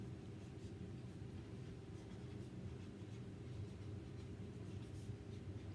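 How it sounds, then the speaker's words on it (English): A marker writing on the back of a transfer sheet, faint scratchy strokes over a steady low rumble of room noise, close and quiet throughout. "So I'm just gonna write on the back,"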